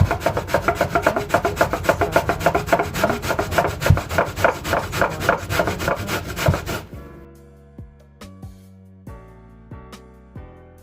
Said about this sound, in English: we're going to be grating all of these cassavas down until it's a shredded mixture that we use